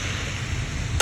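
Onions are stirred while they sauté in a pan, giving a steady close frying sizzle with faint stirring scrapes and a brief clink at the end.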